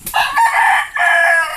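A free-range rooster crows loudly and close by in two quick bursts, with no other sound around it.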